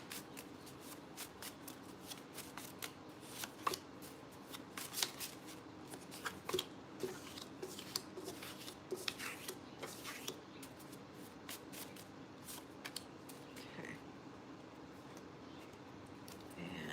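Tarot and oracle cards being shuffled by hand, a steady stream of soft riffling and flicking close by with no talking.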